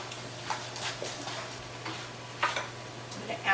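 Onions and bacon cook in a pan with a soft, steady sizzle, punctuated by occasional stirring scrapes and light clinks, close and fairly quiet, with no talking.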